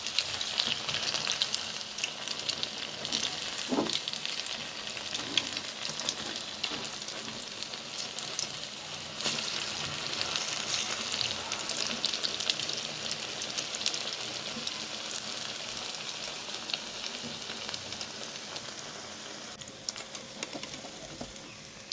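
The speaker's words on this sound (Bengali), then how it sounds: "এই তো আমি উল্টে পাল্টে ভালো করে মচমচে করে ভেজে নেব।" Crisp snack pieces frying in hot oil in a pan, a steady broadband sizzle that carries on without a break, with a few soft knocks as the pieces are turned over, and nobody talking.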